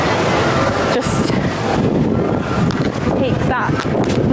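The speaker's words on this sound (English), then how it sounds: "As much as I complain about it getting a bit windy, that breeze is lovely." Wind gusts across the microphone with a steady, loud rumble at a theme park, Islands of Adventure, and a voice talks over it.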